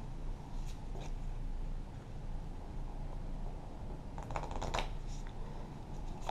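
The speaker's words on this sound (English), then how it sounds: "I'm going to shuffle these cards, only these cards, and put them on top of the infection deck" Pandemic Legacy board game cards being shuffled by hand, a soft papery riffle building to a brief dense flurry of card flicks near the end, close and otherwise quiet.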